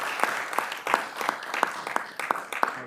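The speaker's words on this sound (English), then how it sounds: "would you all join in giving Mr. Jin and New Gangnam Barbecue a round of applause?" An audience at a business showcase gives a round of applause for a Korean barbecue restaurant and its owner, steady moderate clapping with distinct sharper hand claps recurring in a loose rhythm.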